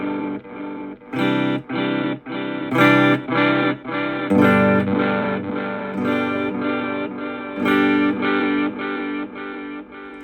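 Electric guitar played through an M-VAVE Elemental pedal with dirt and tape delay: loud distorted chords strummed in repeated bursts, each ringing briefly with gritty echoes trailing, no talking.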